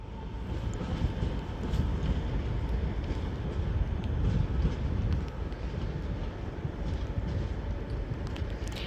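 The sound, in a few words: Northern Class 323 train 323227 at Manchester Piccadilly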